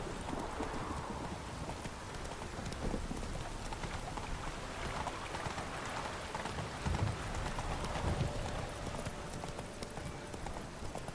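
A horse's hooves clip-clop steadily in The Witcher 3: Wild Hunt, an even trotting rhythm that runs throughout against a light rain-like ambient hiss.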